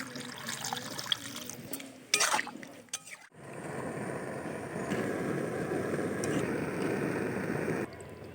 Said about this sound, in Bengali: আমি এরপর ঝোলের জন্য হালকা করে জল ঢেলে দিচ্ছি।